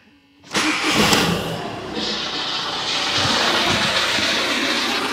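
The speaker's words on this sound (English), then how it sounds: "When it starts, it's gonna be noisy as hell because the gearbox is knackered on this car." Car engine cranks and catches after a brief silence on a project car with a worn-out gearbox, then settles into a loud, rough idle close by.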